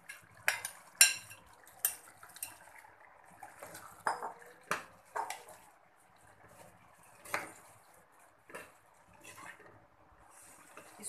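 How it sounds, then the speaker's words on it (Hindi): Spoon scraping and clinking against a pot while fried potato and cauliflower are stirred into a curry, a string of irregular metallic knocks and scrapes at moderate level with quiet gaps between. "इसको हमें अच्छी तरह से मिक्स करना है ताकि मसाला हमारे गोभी और आलू में अच्छी तरह से मिक्स हो जाए।"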